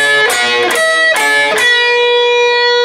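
Electric guitar playing the solo phrase from a rock song: a few quick picked notes in a short run, then one note left ringing and sustaining, loud and close with no talking.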